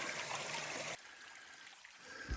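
Creek water keeps up a steady rushing flow that drops to a softer, quieter trickle about a second in, heard outdoors with no voices.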